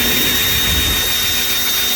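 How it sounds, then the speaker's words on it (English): A power drill spins a dryer vent cleaning brush at high speed inside a vent duct, making a loud, steady whirring and rushing roar with a high-pitched whine running through it the whole time. "You can go as fast as the drill will take you."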